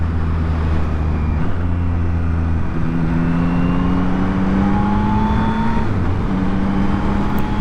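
A Yamaha MT-09 SP motorcycle engine drones loudly up close, its pitch stepping and dropping through several clutchless downshifts, with shifting drones and steady wind rush throughout and no voices.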